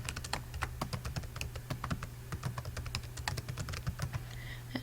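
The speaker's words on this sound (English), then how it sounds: "I missed the typing" Rapid, irregular clicks of computer keyboard typing, close and steady over a low constant hum, with no voices.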